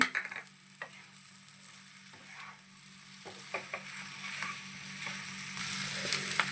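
Coriander, curry leaves, mint and slit green chillies frying with chicken liver and gizzard in a pan, a steady sizzle with scattered stirring scrapes and clicks, moderately close and with no voices.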